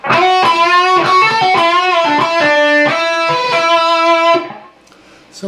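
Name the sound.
distorted electric guitar solo, second measure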